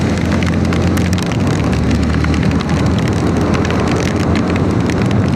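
Steady rain pattering and hissing during a Sunday-morning motorcycle ride in Jasin, with a continuous low engine and wind rumble underneath, loud and unbroken throughout, no talking.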